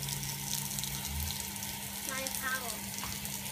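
Water pours and trickles through a homemade experiment, a steady splashing flow close by, with a voice and other faint sounds over it.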